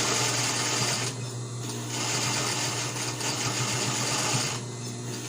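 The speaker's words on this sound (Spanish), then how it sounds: "Entonces aquí vamos a coserle. Procedemos a coser." A sewing machine stitches a fabric face mask with a continuous close whirring drone, briefly slowing and dipping twice before running on steadily.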